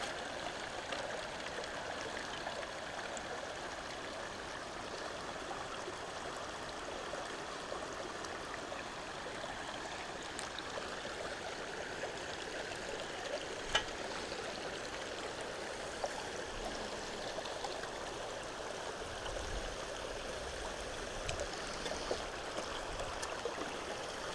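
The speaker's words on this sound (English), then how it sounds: "Always like the sound of running water." Running water of a mountain stream beside a gold sluice on the East Fork San Gabriel River, a steady broadband rush and gurgle held evenly throughout, moderately quiet, with a few faint clicks and no talk.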